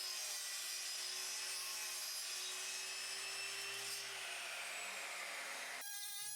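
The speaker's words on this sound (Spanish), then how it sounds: "Utilizaré una ingletadora y un disco para cortar aluminio." A miter saw fitted with an aluminium-cutting disc cuts through an aluminium profile for a homemade sliding table: a loud, sustained, high-pitched grinding whine that cuts off abruptly near the end.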